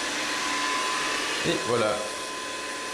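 A Samsung Navibot robot vacuum cleaner runs with a constant airy whir at moderate volume, while a voice speaks briefly in French over it.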